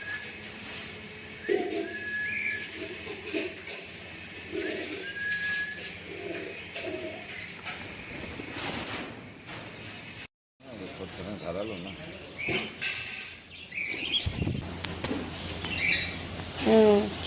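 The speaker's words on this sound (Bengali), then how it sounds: "আর সব থেকে সুন্দর হলো এই টিয়া পাখিগুলো" Parrots chirp and squawk in bursts around a person talking, with a brief rustle of flapping wings near the end.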